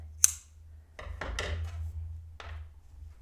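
Scissors snipping yarn after crocheting a sunflower coaster: a sharp click, then a few soft, close cutting and handling sounds, quiet overall against a low background hum.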